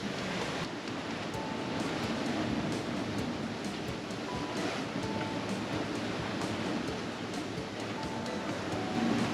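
Choppy sea slop and waves washing against a sailboat's hull under way in mid-teens wind, the current running against it; a steady broadband rush with wind noise on the microphone, continuous and fairly close, no talking.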